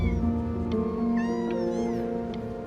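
Cat meowing in the video game Before Your Eyes: several clear, close meows with rising and falling pitch, some drawn out, over a soft musical background with no talking.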